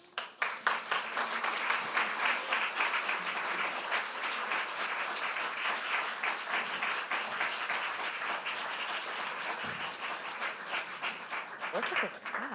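A large audience claps warmly to welcome two panelists onto a stage at a book talk, with dense, sustained applause that holds for the whole stretch and swells slightly near the end.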